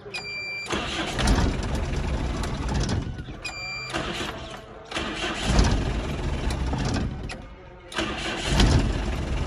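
A 2008 Hyundai Shehzore truck engine cranks and catches in several bursts, then settles into a mid-pitched diesel idle and revs close by, with brief tonal beeps near the start.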